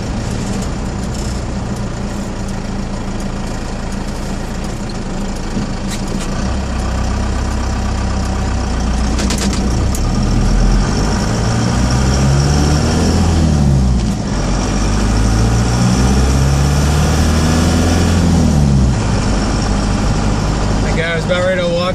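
A Cummins 4BT diesel engine idles at low RPM with a steady, deep rumble throughout, its pitch shifting slightly in the middle, while a person talks over it.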